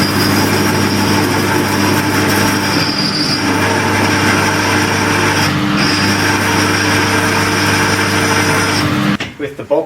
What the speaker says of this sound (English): I'm going to make my whole lathe covered in these little pigtail type bits of swarf